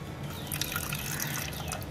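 Water pours steadily into a spray bottle as the first step of a homemade salt spray for hair, a continuous close splashing fill with no talk.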